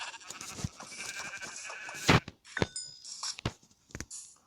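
Sheep bleat in a video game, several short nasal calls at close range, mixed with clicks, thunks and quick game sound effects in a quiet, sparse background.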